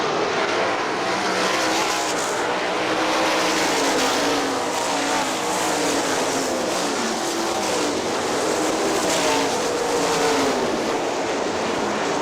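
Sprint cars racing on a dirt speedway at Hartford Speedway Park, a continuous loud roar of engines rising and falling as the pack sweeps past, steady and unbroken with no voices.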